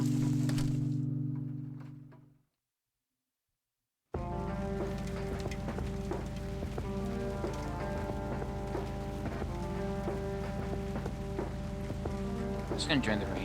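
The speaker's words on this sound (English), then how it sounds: "There's nothing quite like the soothing sound of rain falling on a window." Steady rain patters against a window in the point-and-click game Kathy Rain, a continuous even hiss that follows a brief low hum and a moment of silence.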